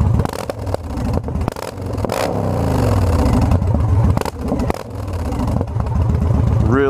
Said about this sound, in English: It's quiet on idle when you're cruising, but you give it gas, it's loud.